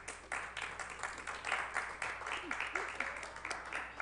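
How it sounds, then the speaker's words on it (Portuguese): A popular assembly audience claps for Women's Day: scattered, uneven clapping with a pulsing rhythm, moderately faint in the room, with some voices murmuring underneath. "Primeiramente, aplauso para o Dia das Mulheres."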